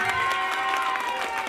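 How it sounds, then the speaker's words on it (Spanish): A street comedy crowd claps steadily in a brief burst of applause, even and sustained throughout, with a faint tonal hum running underneath. "Un aplausito para los que quieren novela."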